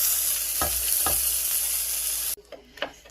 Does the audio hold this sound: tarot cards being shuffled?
no